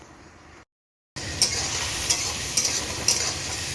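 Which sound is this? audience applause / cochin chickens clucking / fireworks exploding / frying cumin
frying cumin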